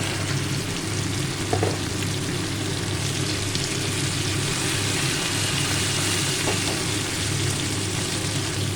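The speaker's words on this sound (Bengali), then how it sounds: "দেখো দেখো মাছগুলো ভালোই ভাজা হয়ে গেছে" Pabda fish fry in oil in a pan, giving a dense, constant close sizzle with a faint low hum beneath and no voices.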